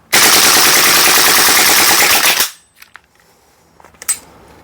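An AKMN airsoft carbine fires one long full-auto burst of about two and a half seconds, loud and close, with a rapid even rattle that cuts off sharply, followed by faint handling clicks and a brief metallic snap.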